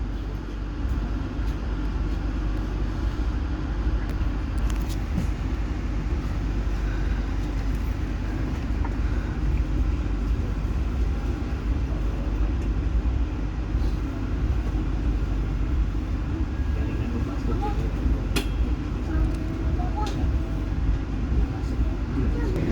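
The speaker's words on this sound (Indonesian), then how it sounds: "kereta Tegal Bahari melanjutkan perjalanannya dari stasiun Babakan" KA Tegal Bahari economy passenger train with stainless steel new generation carriages, pulling out of Babakan station toward Cirebon: a steady low rumble and rolling hum throughout, heard from inside the carriage, with occasional faint clicks and rattles.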